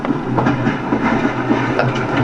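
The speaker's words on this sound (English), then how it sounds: "Oh, what is that? Oh, it's a train." Recorded train crossing the desert, a steady rumbling roll of rail cars with rhythmic clickety-clack wheel beats and a faint hiss, close and continuous with no voices.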